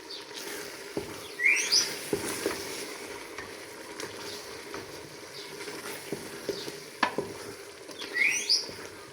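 A spoon stirs a mixture with cumin in a pan for dlinjal zaalouk, giving soft scraping strokes over a gentle sizzle, with a few brief squeaky scrapes, close and moderately quiet, with no speech.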